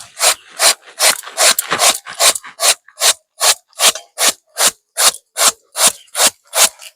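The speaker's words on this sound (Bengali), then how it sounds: "পেঁপেগুলো এখানে আমি একটা গ্রেটারের সাহায্যে গ্রেট করে নেব।" Raw papaya grated on a small handheld grater, producing a steady run of about seventeen close, loud scraping strokes in an even back-and-forth rhythm, with no talking.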